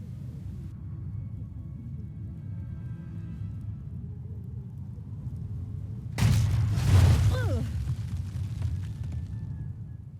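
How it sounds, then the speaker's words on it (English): A sudden loud boom bursts out in the Medal of Honor: Above and Beyond video game, following a long low rumbling ambience and trailing off into crackling debris and a fading roar. "get into position before triggering the explosion"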